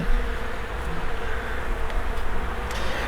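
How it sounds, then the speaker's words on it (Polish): Dense, continuous buzzing of many Buckfast honeybees (Anatolian line) swarming close by around a hive, a steady drone with no voices. "W każdej ramce wszędzie jest bardzo dużo pszczoły."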